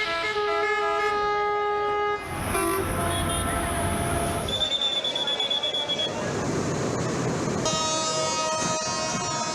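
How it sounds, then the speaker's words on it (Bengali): Crowded passenger train departing a Bangladeshi station during the Eid homeward rush, with steady rumbling rail noise, a loud shrill horn-like tone in the middle and sustained tonal whines throughout. "যাত্রী ঠেসে ছেড়ে যায় একের পর এক ট্রেন ও লঞ্চ।"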